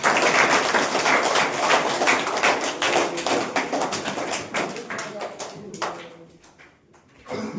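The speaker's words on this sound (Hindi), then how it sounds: "एक बार जोरदार ताली" Audience at a Saturday motivational seminar clapping loudly, a dense sustained round of applause that thins out toward the end with scattered claps.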